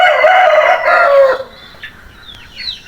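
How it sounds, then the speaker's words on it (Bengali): A young Aseel rooster crows loudly and close by, one long strained call that breaks off about halfway through, followed by a few faint chirps and clucks. "মোরগের সাউন্ড অনেক সুন্দর, বয়স বেশ কম।"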